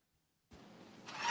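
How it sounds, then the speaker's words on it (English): A car engine cranks and starts after a moment of silence, rising from a low rumble into a louder, brighter catch as it fires, close and with no talk. "Oh, that's an engine. Car engine."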